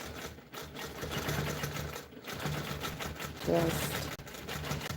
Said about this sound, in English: So I'm just creeping along, stitching in the ditch.